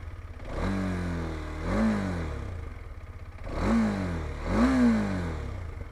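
A TVS Apache RTX 300 motorcycle engine idles at close range and is revved twice in pairs of rising and falling throttle blips, with no talking.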